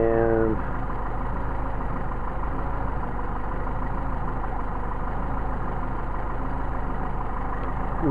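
A Mercedes 190SL engine with Solex carburetors idles smoothly and steadily up close, a constant low hum running throughout after a brief tonal sound at the start.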